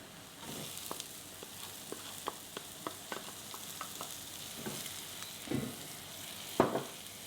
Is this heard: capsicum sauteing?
yes